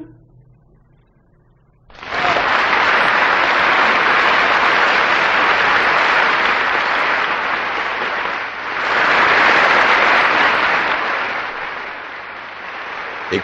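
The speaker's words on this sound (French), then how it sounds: "Écoutez comme ils applaudissent. C'est un succès, un triomphe." Applause from a theatre audience in a film erupts suddenly after a quiet moment, then holds as dense, loud clapping, swelling again near the end.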